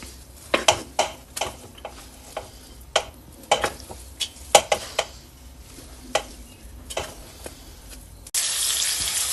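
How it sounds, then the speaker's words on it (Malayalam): Chicken fries in a pan for Kerala-style chicken biryani, a steady sizzle broken by sharp, regular scrapes of stirring about once a second, with a sudden loud hiss near the end. "ചിക്കൻ ഞാൻ ഇങ്ങനെ ഫ്രൈ ചെയ്ത് കൊടുക്കുക"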